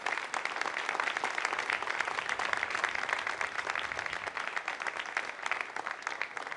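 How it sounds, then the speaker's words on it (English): Applause in a control room after an Ariane 5 rocket separates the ATV-3 Edoardo Amaldi cargo craft bound for the space station, heard as a dense, steady wash of clapping that holds evenly throughout. "And the applause heralding the good news"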